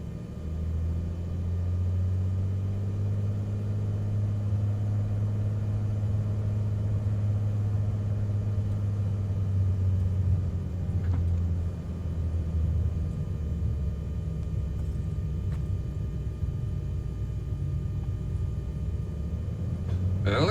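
The engine of a Cessna Corvalis 400 TT in Microsoft Flight Simulator drones steadily in a low continuous rumble through the whole stretch as the aircraft begins its takeoff roll, with someone talking over it.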